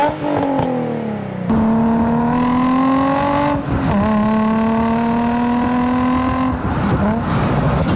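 A Nissan 350Z with an aftermarket exhaust revs hard and close, its tone climbing and holding in long sustained pulls with brief drops between, loud and raspy with no talking over it.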